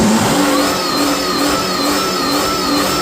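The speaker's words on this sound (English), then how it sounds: "it still makes supercharger noises." The supercharged 351 Windsor V8 of a 1996 Ford F-350 truck revs steadily with a rising whine layered over the mechanical roar, loud and close, with no voices.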